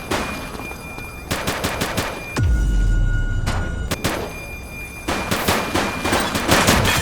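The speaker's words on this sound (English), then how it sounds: "He's shooting!" Rapid bursts of automatic gunfire crackle through a police shootout in The Precinct, loud and close, broken by a heavy low thud and a short lull before the volleys resume.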